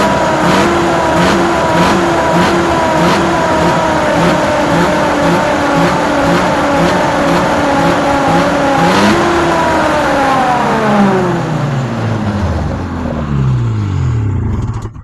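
A snowmobile engine idles with a rhythmic pulsing beat, then revs up in pitch and winds back down toward the end, loud and close, with no talking over it.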